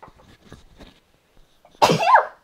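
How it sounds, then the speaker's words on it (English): A single loud sneeze bursts out after a few soft, quiet breaths. "I think I have to sneeze."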